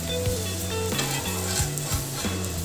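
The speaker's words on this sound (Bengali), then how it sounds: "এইভাবে ব্রাউন করে সব ভেজে নিতে হবে" Moong dal dosa made with whole moong, chana dal and rice fries in a pan with a continuous loud sizzle, close up, while a utensil scrapes and shifts it in a few short strokes.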